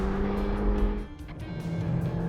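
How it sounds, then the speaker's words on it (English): A Hyundai i30N hot hatch's exhaust drones loudly at steady engine speed, dips briefly as a gear change comes, then picks up again with a rising note, close and without voices. "The i30N has by far the best low and mid-range torque delivery, and easily the best exhaust note here."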